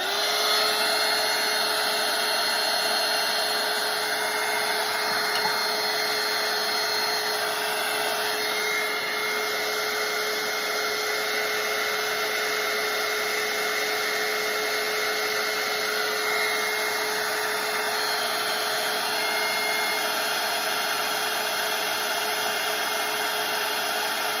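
A hair dryer blows steadily over a wet watercolour snowman painting, a loud, close, unbroken whirring roar that holds the same level for the whole stretch, with no talking.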